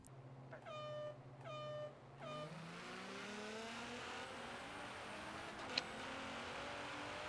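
A 2017 Nissan GT-R drag build in Forza Horizon 3 pulls hard after a few short tonal blips, its engine note climbing steadily and loudly through the revs.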